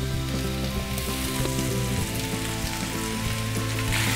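Potatoes and carrots sizzle loudly and steadily in a pan with onions and curry leaves, a close, continuous frying hiss with no talking.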